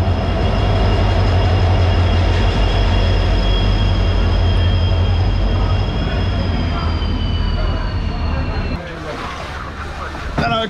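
A Jan Shatabdi Express passenger train rolls along with loud, continuous wheel rumble and rattling carriages, thin high wheel squeal running through it, before the roar eases and clattering jolts take over near the end.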